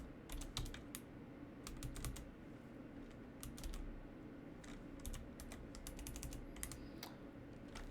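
Quick bursts of keystrokes on a computer keyboard, close and crisp, with short pauses between typed words over a low steady background hum.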